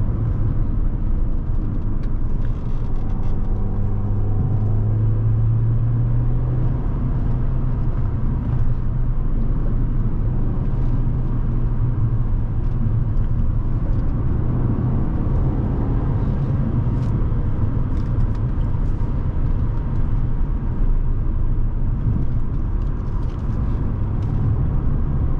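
A 2012 Audi A4 2.0T Quattro heard from the cabin while cornering under light throttle: a steady low engine and tire rumble with a short rising rev early on, otherwise an even, continuous drone.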